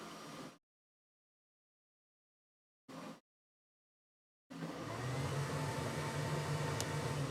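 3D printer cooling fans running on OpenCentauri firmware: a short burst of whirring, silence, a second brief burst, then a steady loud fan whir with a low hum that holds to the end.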